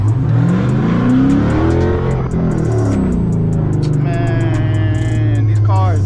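A 2019 Dodge Charger RT Widebody engine revving and accelerating from inside the car, loud rising and falling pitch sweeps through gear changes, with brief talk near the end.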